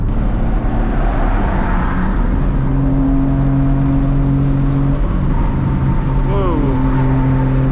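A big-turbo, straight-piped MKIV Toyota Supra cruising on a highway, its loud, steady engine drone filling the cabin with sustained humming tones, blended with road and wind noise.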